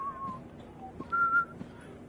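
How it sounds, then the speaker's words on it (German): A referee's whistle in the NFL Pro Era VR football game gives one short, clear, high blast near the middle, faint against a quiet background. "Jetzt hat er gepfiffen."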